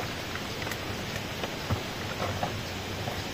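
Steady rain falls during Typhoon Gener under a darkening sky, a continuous broadband hiss with scattered louder drops, moderately close and without voices.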